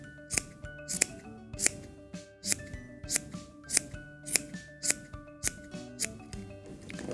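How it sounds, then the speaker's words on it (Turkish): Scissors snipping excess yarn off a pompom, a steady series of sharp, close metallic snips at roughly even intervals, crisp and distinct with quiet gaps between cuts. "Bunun güzel sevimli yuvarlak pompon olması için önce gelişi güzel fazlalıkları kesiyorum."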